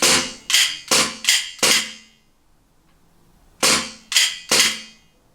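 Sharp gas blowback shots from a VFC SIG M17 airsoft pistol fitted with an AMG kit, fired in two bursts: five quick cracks, a pause, then three more, each loud and close with a brief metallic ring.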